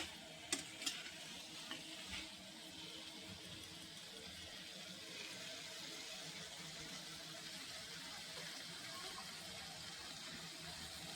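Mutton sizzles in a pan with spices while being stirred for a Bengali kosha, a steady quiet frying hiss broken at the start by a few clinks of the spoon against the pan.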